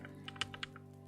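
Typing on a new computer keyboard, a run of crisp, close key clicks and taps in an irregular rhythm, a few strikes louder than the rest, over a steady low background hum.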